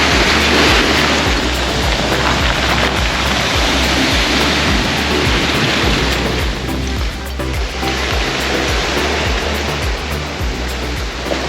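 Waves break and wash continuously against a rocky swimming beach in Curacao, a loud close roar of surf and churning water with no pauses and no voices.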